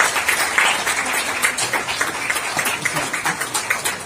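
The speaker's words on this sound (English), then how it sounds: "And here for the huge round of applause, ladies and gentlemen, on the release of this book." Audience applause at a book release event for a public health book in a hall, a steady round of clapping from a crowd, moderately loud and continuous throughout, with no speech over it.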